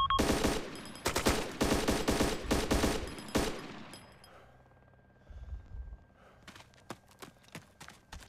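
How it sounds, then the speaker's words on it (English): Bursts of machine-gun fire, loud and close, rattling in several rapid strings over the first few seconds, then fading to scattered distant single shots and thumps. "Under fire."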